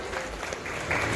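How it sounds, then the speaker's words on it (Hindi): Audience applause welcoming meritorious students at a school honours ceremony, a brief steady patter of many hands that swells slightly toward the end. "की तालियों से स्वागत"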